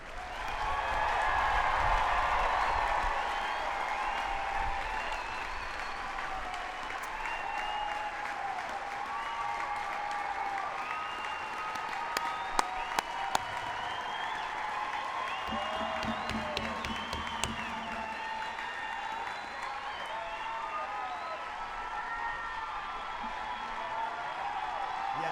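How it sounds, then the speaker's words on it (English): Large crowd applauding at a military basic training graduation for airmen, sustained dense clapping mixed with cheers and whoops, loudest at the start and continuing steadily throughout. "how about one more big round of applause for all of your airmen?"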